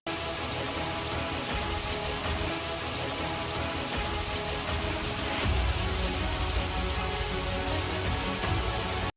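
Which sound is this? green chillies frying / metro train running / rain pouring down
rain pouring down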